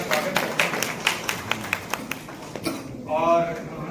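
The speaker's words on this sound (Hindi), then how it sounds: "मैं ताली बजा के इनका स्वागत करता" Sparse hand claps welcome an artist at an art gallery launch, with a steady run of distinct claps under a man's speech, which continues on its own at the end.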